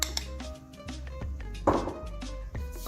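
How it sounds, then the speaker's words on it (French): A spoon or whisk stirs a runny batter mixed with egg yolks in a bowl, tapping and clinking against the side in quick, uneven strokes, close up and with no talk. "touiller pour avoir une petite masse liquide sans grumeaux à laquelle nous allons intégrer nos jaunes d'œuf"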